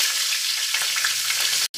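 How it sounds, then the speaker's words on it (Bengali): Green chilies tempered in hot oil in a kadai give a loud, bright, continuous sizzle close by, cutting out abruptly for a moment near the end. "তারপর কাঁচা লঙ্কা ফোড়ন দিয়ে দেবো।"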